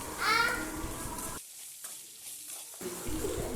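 Onion and dried red chillies sizzle in a pan for tomato chutney as they are stirred. The close, steady frying briefly cuts out in the middle, and a faint voice-like sound rises near the start.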